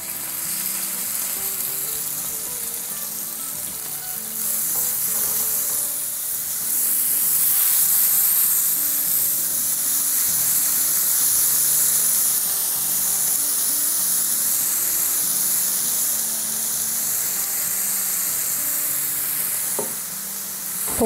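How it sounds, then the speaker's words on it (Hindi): Meat frying in about three tablespoons of hot oil in a pan for pepper steak, a loud, continuous close sizzle that swells and fades slightly, with faint stirring scrapes and no talking. "तब इसमें हम डालेंगे तकरीबन 3 टेबलस्पून तेल। और इसमें ये हम डालेंगे अपना मीट"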